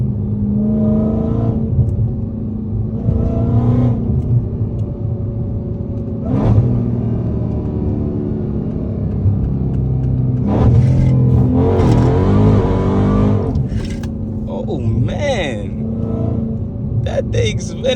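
Supercharged Dodge Charger Hellcat engine heard from inside the car, a loud steady rumble with repeated revs and downshifts, rising throttle blips and a climbing supercharger whine, while people talk over it.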